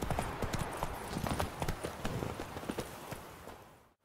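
Geralt's horse Roach trotting in The Witcher 3, a steady close run of hoof clip-clops that continues over a faint background and fades out at the end.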